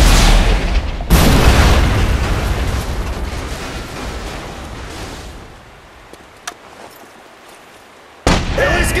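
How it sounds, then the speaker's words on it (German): A loud explosion booms out in the video game The Saboteur and its rumble slowly fades, then a second sharp blast bursts in near the end. No voices are heard. "Das ist was explodiert!"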